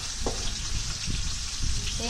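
Pork sizzles loudly in a hot pan, a steady crackling fry with a few stirring scrapes over about two seconds.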